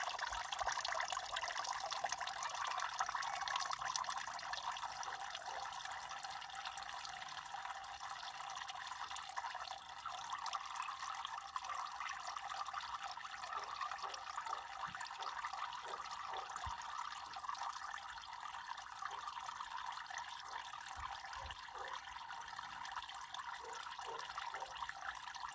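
Coolant draining from the radiator of a 1996 Ford F350 with the 7.3L engine, a steady close trickle of liquid with scattered drips running throughout, no talk.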